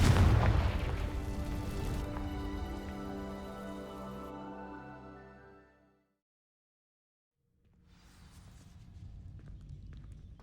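A Confringo spell in the video game Hogwarts Legacy sets dry vines alight, opening with a loud booming blast that rings out and fades into a silence, then low crackling rumble returns.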